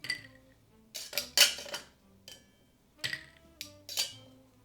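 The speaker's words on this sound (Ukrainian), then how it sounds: "Додаємо ще трохи льоду." Ice cubes clink and rattle into a glass for a Negroni cocktail, several sharp bright knocks in quick clusters, close and alone without talk.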